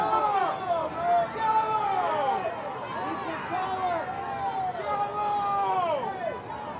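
A soccer stadium crowd at a Carolina Ascent FC versus Lexington SC match reacts to a foul with a loud, sustained mass of shouting and jeering voices that rises and falls throughout.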